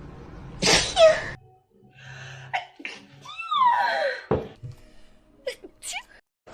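A person sneezes loudly once up close, followed by breathy sounds and brief talking afterward.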